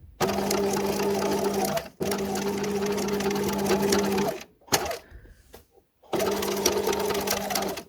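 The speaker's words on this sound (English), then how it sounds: "So let's just sew this last part." A sewing machine stitches the last part of a pleated dress, its walking foot feeding the pleats evenly: a steady, close mechanical hum runs in three long bursts, with a short quiet gap holding faint handling noises.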